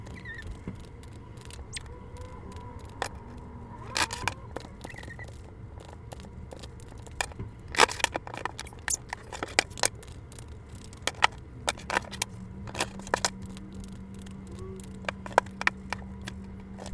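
Tarot cards being shuffled by hand for a reading, heard as a quiet, irregular run of soft riffling snaps and flicks with no talking over them.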